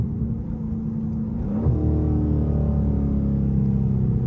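A Dodge Scat Pack 392 V8 rumbles low, then rises with a sharp rev as it downshifts during a late-night drive in the rain; heard from inside the car, steady and fairly loud.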